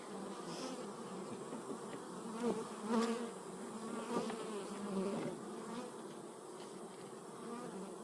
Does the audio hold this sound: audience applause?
no